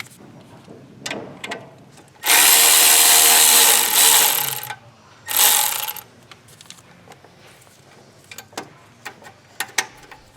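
A power tool loosening turbocharger manifold bolts on a Chevy Cruze, with two loud whirring bursts, one long and one short, set among scattered metallic clicks and tool handling.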